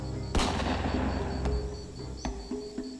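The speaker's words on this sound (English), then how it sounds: "Another shot echoed on the plains." A single sharp gunshot cracks loudly and rolls off in a long echo, followed by a few fainter distant reports.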